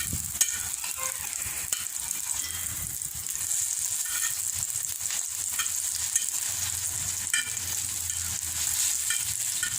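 Fish cutlets made from mashed fish, Manapadu style, sizzle and fry steadily in a pan, a continuous bright crackling hiss with occasional stirring or turning sounds and no talking.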